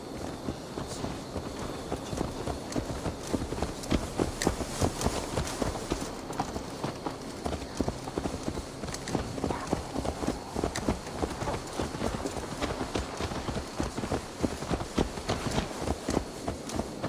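Horse hooves gallop steadily across ground in Assassin's Creed Valhalla, a continuous fast clip-clop rhythm that stays close and fairly loud for the whole stretch, with no voices over it.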